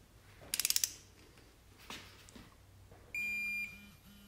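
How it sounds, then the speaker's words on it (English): Snap-on click-type torque wrench tightening bolts on a 6.0L LS engine for a '72 Chevy C10, with a quick burst of ratcheting clicks, a faint knock, then a steady electronic beep tone near the end. "I'm going to go ahead and torque them down"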